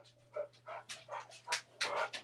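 A dog pants in quick, breathy bursts with faint whimpers, close but quiet, over a low steady hum.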